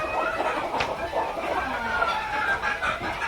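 Hens in a coop clucking in short, uneven bursts amid general barnyard noise, with a voice talking faintly in the background.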